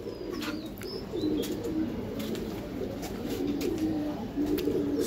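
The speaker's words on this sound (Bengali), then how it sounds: "এটা এক জোড়া কষা কবুতর।" A pair of kosha pigeons, a breed of domestic pigeon, coo in a low steady murmur that runs through the whole stretch, close by and moderately loud, with a few faint chirps above and no speech.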